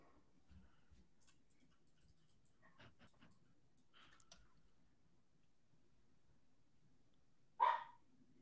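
A dog barks once, a short loud burst near the mic in an otherwise quiet room with faint clicks and light background noise during a live tech podcast recording.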